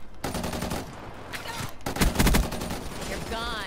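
Gunfire in the shooter Call of Duty Black Ops III: loud, rapid bursts of automatic shots in two clusters separated by short pauses, close and dominant, ending with a sweeping electronic tone.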